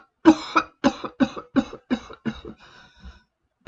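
A run of about seven rhythmic coughs in quick succession, tapering off into weaker wheezy huffs, close and alone.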